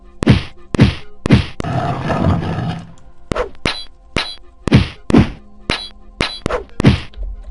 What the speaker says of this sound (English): you hear the noises, right? Iron golems!